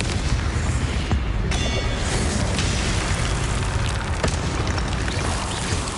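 A Confringo blast spell in a Harry Potter–style PS4 game sets off a loud, dense explosive boom that stays continuously loud, with a sharp burst near the start and another flare later.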